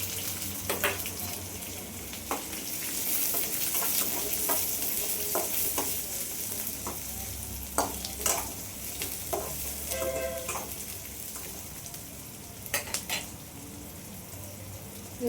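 Finely chopped onion sizzling and frying in hot oil while being stirred, a steady close crackle with occasional scraping clinks of the spoon, no talking.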